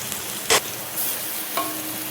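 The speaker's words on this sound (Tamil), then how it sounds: "2 பெரிய ஆனியன் ப்ளஸ் கொஞ்சோண்டு சின்ன வெங்காயம், அப்புறம் பட்டை லவங்கம் இதெல்லாம் போட்டு நல்லா ஃப்ரை பண்ணிவிட்டு கொஞ்சம் நேரம் வதக்கி விட்டுட்டு இருக்கணும்." Onions frying in a pan with cinnamon and cloves for a chicken gravy, a soft steady sizzle broken by a couple of sharp stirring scrapes.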